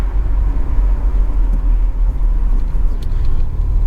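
A 1991 Volkswagen Golf II 1.8 GTI pulls away in third gear at low revs over a speed bump, giving a steady, close, low engine rumble heard from inside the car.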